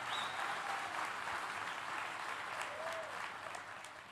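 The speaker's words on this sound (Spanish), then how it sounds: "dale el mejor aplauso ahí que usted pueda al Señor" A church congregation applauds steadily during a service with Pastor Otoniel Font, a soft, fairly distant wash of clapping that fades slightly toward the end, with faint voices underneath.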